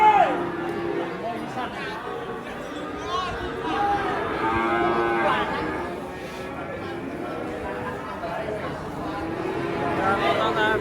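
A herd of agitated cattle unloaded from a truck, several animals mooing and bellowing repeatedly over continuous crowd chatter and shouting people nearby.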